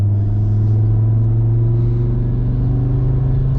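Inside a 600 hp Audi TT RS cruising in sixth gear on a freshly paved highway at night, a steady, loud low engine drone and road rumble hold evenly throughout.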